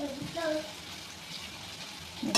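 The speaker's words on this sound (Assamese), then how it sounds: "এনেকৈ ডাইৰেক্ট ফ্ৰাই কৰিম অলপ অলপকৈ" Small batches of food fry directly in oil over a low flame until crispy, giving a faint, steady sizzle under a voice speaking at the start.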